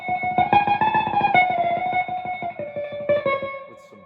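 An electric guitar plays a short run of picked notes through a distortion effect, gritty and sustained, ending in a fading ring.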